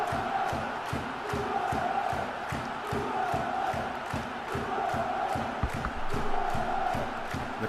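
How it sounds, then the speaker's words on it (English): A stadium crowd in the PES 2014 football video game roars after a goal, a steady, dense cheer with rhythmic pulses of clapping or chanting running through it. "The crowd are fired up now."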